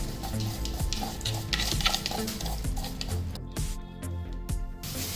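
A utensil stirs a homemade camel milk soap mixture in a bowl, giving a continuous close scraping and swishing sound with light clinks and no talking.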